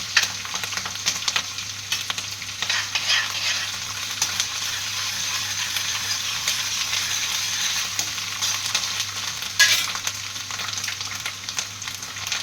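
Ginger is added to a sizzling pan of Kathiyawadi-style eggplant oro, giving steady close frying and crackling with a brief stirring scrape partway through.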